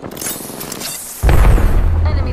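Heavy video game gunfire erupts in a sudden loud low boom that keeps rumbling with crackling blasts, after a stretch of quieter game ambience.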